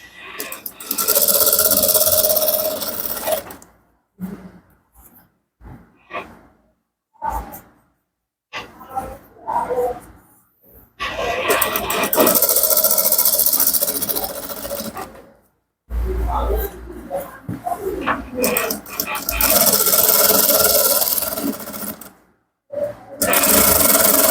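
A sewing machine stitches a trouser waistband in loud, sustained mechanical bursts, broken by pauses and softer handling noises.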